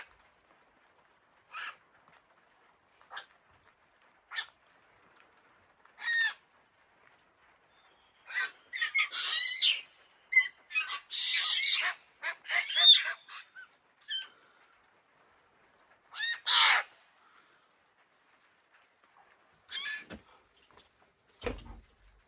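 Choughs call outdoors in a series of short, sharp, scattered caws and squeaks with silent gaps between them, clustering more densely in the middle.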